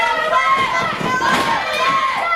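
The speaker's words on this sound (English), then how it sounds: "The crowd getting solidly behind Billy Rayz." A wrestling crowd at a CSW show cheers and shouts for Billy Rayz as a dense, steady roar at moderate distance, with a commentator talking over it.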